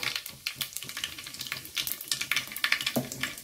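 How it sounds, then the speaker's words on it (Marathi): Cumin seeds crackle and pop in about two spoons of hot oil in a pan on a gas stove, a quick run of small close sizzling bursts with no voice over them. "आता आपण जिरे घालून घेऊया।"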